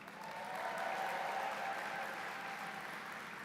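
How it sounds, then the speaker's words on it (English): Audience applause for award winners at a SUNY Upstate Medical University Match Day event, a dense and steady crowd clapping that fills the hall from start to end. "How about another big round of applause for all of our award winners?"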